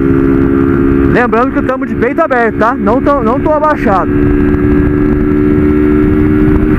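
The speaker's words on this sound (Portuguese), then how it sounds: "Com a moto em alto giro, eu consigo ouvir um pouco do barulho do comando." A 160 cc motorcycle held at high revs on a highway, its steady engine drone running throughout under wind, while a rider talks over it for a few seconds in the middle.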